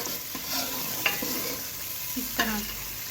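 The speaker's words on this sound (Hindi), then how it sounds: "अब इसको हम ब्राउन होने तक पकाएंगे, अच्छे तरीके से फ्राई करेंगे" Ground onion fries in oil over a high flame, a continuous near sizzle broken by three or four soft scraping stirs.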